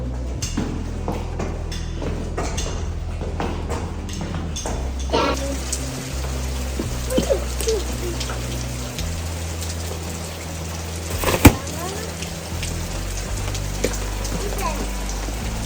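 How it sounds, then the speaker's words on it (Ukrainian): Rain falls outdoors during a walk with children, a steady hiss of drops under low rumbling background noise and occasional footsteps or movement, with people talking intermittently. "Вивела дітей погуляти під дощом."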